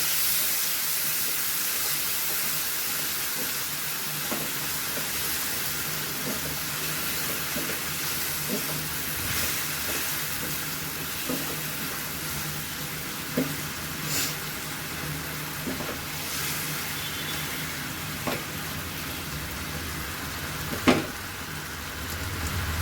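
A spice masala of turmeric and chilli powder with a little water cooks in a pan, giving a soft continuous sizzle and hiss with occasional small pops and clicks, no voices over it.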